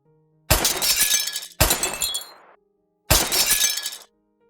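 Glass shatters three times in a bullet-hole fracture simulation, each a loud, close burst of breaking glass with tinkling debris, separated by short silences.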